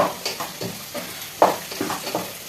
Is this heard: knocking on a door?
no